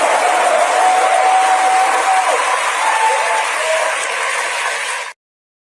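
Live audience at a legal news show claps steadily in a dense, loud burst of applause lasting about five seconds, then cuts off abruptly.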